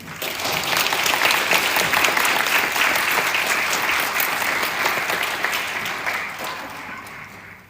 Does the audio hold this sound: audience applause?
yes